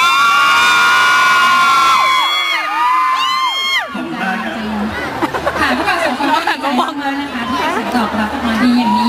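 Concert audience cheering and shouting at an outdoor Channel 3 show in Phetchaburi, Thailand, loud crowd whoops and chatter following a host's spoken call, sustained through the rest.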